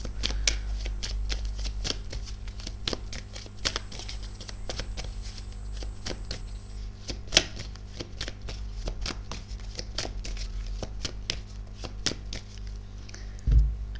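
Oracle cards being shuffled by hand, a dense, rapid patter of soft card flicks and riffles running continuously, close and moderately quiet, with no talking.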